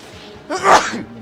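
A single close, loud sneeze bursts out sharply and fades, with no talking around it.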